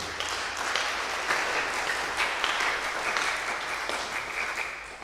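A church congregation claps in praise during a Sunday morning service, a dense, steady round of clapping lasting several seconds with no talk.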